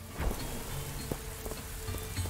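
Rain falls in the indie game Perish as a steady hiss of rain on surfaces, close and even, with a few soft thuds over about two seconds and no speech.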